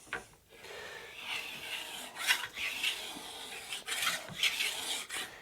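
A hand plane with a wide mouth takes coarse shavings from wood during guitar building, giving a series of close, dry rasping strokes of varying length, with no talking.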